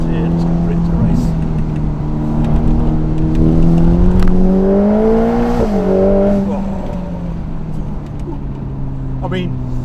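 A Ferrari Portofino M pulls hard through a corner, its engine note climbing steadily in pitch under acceleration then easing off, loud and close with a continuous rich drone.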